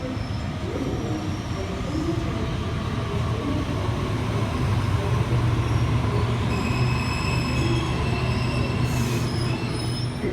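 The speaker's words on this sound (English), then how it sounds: "The next train to arrive on platform 2 goes to Macarthur via airport." A Sydney train pulls into a platform at the Domestic Airport station, wheels squealing in steady high tones above a continuous loud rumble of rail cars, close and sustained throughout.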